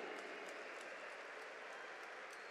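An audience at an MMA event in Monterrey, México, applauds continuously, a dense wash of clapping and crowd noise that stays steady and fairly distant, with no clear voices on top.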